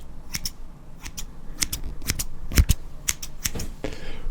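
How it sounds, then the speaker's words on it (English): Scissors from a collection of barbershop, fabric and everyday pairs snip crisply again and again in an irregular rhythm, each cut a sharp close metallic click over a low rustling background, with no voices. "these range from barbershop scissors to fabric scissors to just normal scissors"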